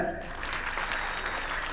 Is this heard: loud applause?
yes